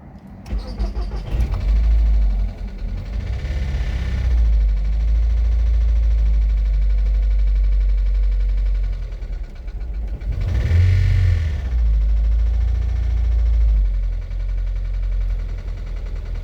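A VW Jetta GLI MK5 with an FSI engine, run after sitting for three years, cranks and catches, then settles into a low, rough idle with a couple of brief revs.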